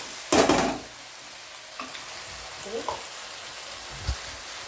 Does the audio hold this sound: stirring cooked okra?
yes